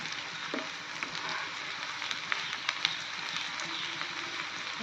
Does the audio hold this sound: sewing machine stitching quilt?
no